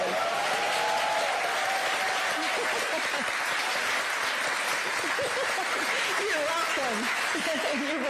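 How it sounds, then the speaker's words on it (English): An audience at a campaign event for seniors in Phoenix claps steadily throughout, a sustained wash of applause with some chuckles and voices mixed in. "We should do just a little clapping for a guest that I just met"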